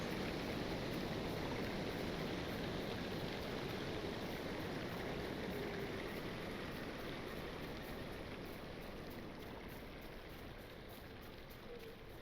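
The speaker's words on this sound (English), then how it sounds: "This thing has a lot of waterfalls." A waterfall in Lord of the Rings Online, heard as a continuous broadband rush of falling water that holds steady and fades only slightly over time.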